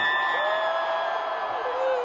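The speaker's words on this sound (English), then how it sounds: "now let the applause die out naturally" Recorded applause and cheering effect played during a card game podcast, a crowd roar with sustained whoops on top that holds steadily.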